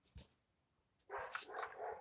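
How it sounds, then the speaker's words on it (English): Dogs bark indoors, faint and somewhat distant, with one short yip followed after a pause by a longer cluster of barks. "I know you can probably hear my dogs barking"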